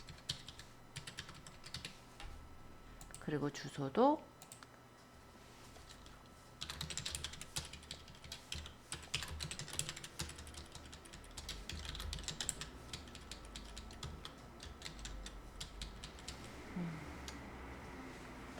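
Computer keyboard typing while entering an address and phone number into a mobile blog, heard as scattered bursts of clicking keys at moderate level with brief quiet gaps and a few words spoken partway through.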